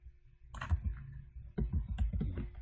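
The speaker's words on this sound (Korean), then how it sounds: "키보드에서 알파벳 T를 눌러 가지고 선택을 하시고요" Computer keyboard keys are pressed in a short burst of soft, close clicks and taps, quiet and unaccompanied by speech.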